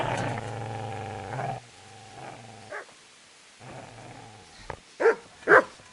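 A dog growling and snarling close by, a low rumbling growl in bursts that drops out, then sharp snarls and snaps near the end.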